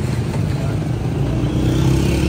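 A motorcycle with a fault idles close by, its engine giving a loud, steady, slightly clattery rumble with no voices over it.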